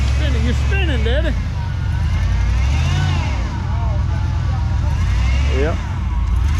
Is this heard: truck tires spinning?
yes